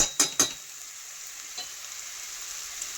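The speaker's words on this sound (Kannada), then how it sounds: "ಚೆನ್ನಾಗಿ ಫ್ರೈ ಮಾಡ್ಕೊಳ್ಳೋಣ." Egg bhurji cooking in a pan: three quick sharp spatula scrapes at the start, then a steady soft sizzle of frying, with no voices.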